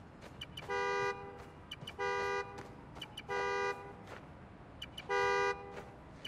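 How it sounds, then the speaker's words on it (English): A car horn in the video game Marvel's Spider-Man: Miles Morales, set off by a key fob, honks in four steady, evenly spaced blasts, each lasting about half a second, over faint background noise. "Find the horn,"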